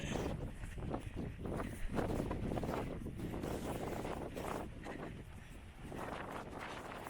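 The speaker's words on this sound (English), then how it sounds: "It's so windy." Strong wind on Mt. Washington buffets and roars continuously across the microphone, a dense rushing gust noise with no voices.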